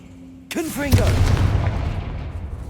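In Hogwarts Legacy, the Confringo fire spell goes off with a sudden loud booming blast right after a spoken incantation, followed by a rumbling, crackling fiery roar that slowly fades.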